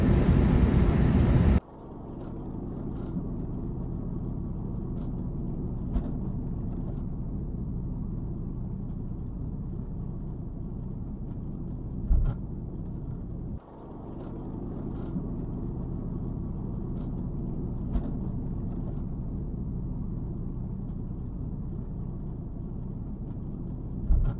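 A steady low engine rumble and road roar fill the inside of a car cruising along a highway, with occasional small knocks and a brief louder bump, and no talking.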